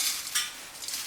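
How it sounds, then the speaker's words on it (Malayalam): Flattened rice (aval) is stirred and dry-roasted in a pan, a soft, faint scratchy rustle with a few brighter scrapes from the utensil and no voices. "അപ്പോൾ നമുക്ക് ഈ അവൽ ആദ്യമായിട്ടൊന്ന് വറുത്തെടുക്കാം"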